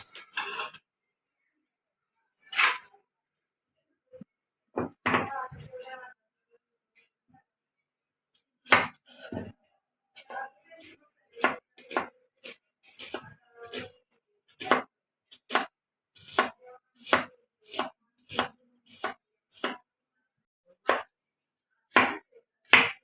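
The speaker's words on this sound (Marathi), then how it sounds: "आता मी तेल गरम करायला ठेवते आणि कांदा कापून घेते." Onion cut with a knife for fried onion fritters, sparse cuts at first, then a quickening run of sharp close chops on a board, with no voices.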